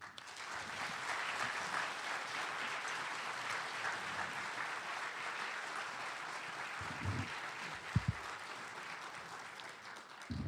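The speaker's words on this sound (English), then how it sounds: "So please give a round of applause for Dr. Ayaz Virji" An audience gives a round of applause for a guest speaker at a university talk, steady distant clapping that fills the room for about ten seconds, with a couple of brief thumps near the end.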